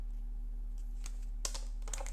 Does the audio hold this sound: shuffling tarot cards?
yes